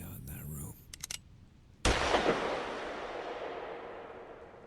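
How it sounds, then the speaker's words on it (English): A single loud gunshot cracks out in a room, with a long decaying ring after it. Brief sound effects come just before it. "A single shot rang out in that room,"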